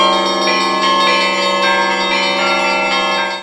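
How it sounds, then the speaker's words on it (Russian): Russian Orthodox church bells ring out in a festive peal right after the liturgy, loud, sustained and resonant, overlapping tones filling the whole stretch without voices. "а сразу по окончании литургии зазвонили колокола"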